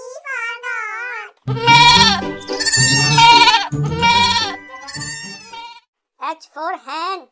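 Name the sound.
goat bleating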